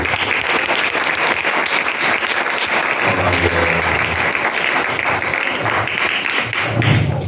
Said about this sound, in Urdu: سو آئے بہن کے لیے بھی ہم تالیاں بجائیں